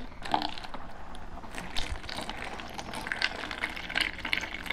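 Cold water poured into a self-heating food pack up to the fill line, a steady trickling splash at close range with brief clinks and crackles, no talk over it.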